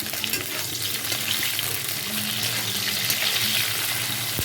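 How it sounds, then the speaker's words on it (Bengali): Eggplant frying in a pan with a little salt, a dense, continuous hiss of hot oil that stays loud and steady throughout, close by. "সামান্য একটু লবণ দিয়ে বেগুনটাকে ভেজে তুলে নেব"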